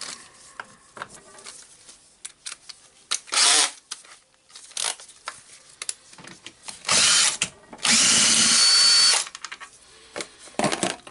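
Power drill driving out the handle screws of a Hilti TE905-AVR breaker during disassembly, heard in several short loud whirring bursts separated by quiet pauses and small handling clicks.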